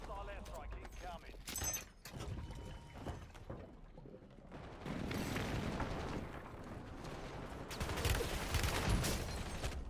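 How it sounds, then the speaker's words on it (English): Call of Duty airstrike with dense explosions and gunfire rumbling and bursting through the whole stretch, loudest near the end, with game voice lines mixed in. "Hostile airstrike incoming."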